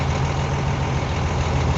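Steady low idle rumble of a manual transmission vehicle fitted with an air assisted clutch, a continuous close engine drone with no change in pitch and no voices.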